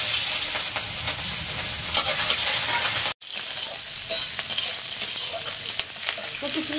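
Oil heats in a pan for a potato curry, giving a loud, dense, continuous sizzle with small pops and one brief dropout partway through.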